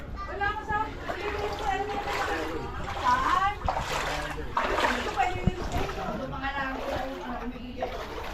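People bathing in high floodwater splash and slosh continuously at close range, with voices and excited shouting layered throughout over the churning water.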